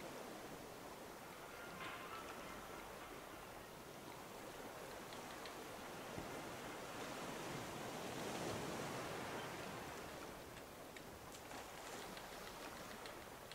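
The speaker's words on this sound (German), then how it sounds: "Hier sind aber richtig die hohen Wellen" Steady rushing surf of high ocean waves in the video game Raft, a broad continuous wash that swells slightly in the middle, with no voices.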